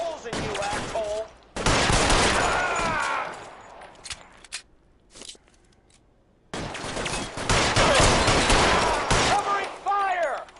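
Bursts of gunfire from the video game L.A. Noire, loud rapid volleys in two long stretches separated by a quieter gap, with a shouting voice mixed in.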